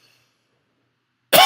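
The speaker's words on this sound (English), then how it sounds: "if you hear me coughing like crazy, it's because my throat's burning from the inside out" A sudden harsh cough from a person suffering from bad heartburn and a burning throat, loud and close, bursting in after near silence at the very end.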